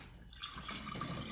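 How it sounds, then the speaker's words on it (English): Water is added to a strawberry puree with lemon and ginger, a brief trickle and splash into a container, fairly close and soft, with no voices. "add a little bit of water"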